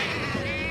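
A steady sheep bleat, fairly close and sustained, with a wavering tone over a soft background hum.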